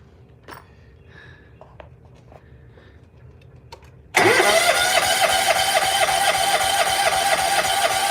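An engine cranks and catches at about four seconds, then settles into a loud, steady run near the mic, after a stretch of faint workshop clatter. The vehicle had its oil light on and is being moved to a work pad.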